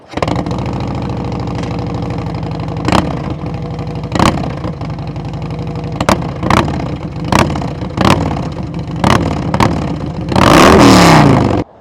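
A Harley-Davidson CVO Road Glide ST motorcycle idles with a loud, deep exhaust rumble, punctuated by about eight sharp throttle blips spaced a second or so apart, ending in a longer, roaring rev.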